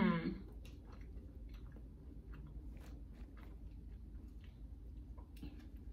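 A whipped cookie from a breakfast box is chewed up close in soft, repeated crunchy bites and squishy mouth sounds. After a brief louder moment at the start, the chewing stays fairly quiet and runs without talk.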